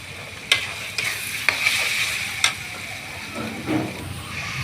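Ground spice pastes of ginger, cumin and coriander, with coriander and cumin powders, frying in a pan and stirred. A steady hiss and sizzle runs beneath several sharp spatula scrapes and taps, close by.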